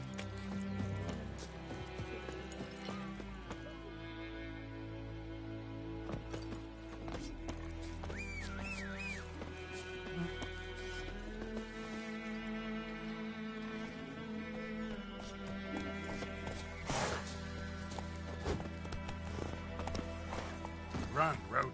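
Roach, Geralt's horse in The Witcher 3, gallops with a steady clip-clop of hooves that runs through the whole stretch, set under a dense orchestral music bed, with an occasional whinny.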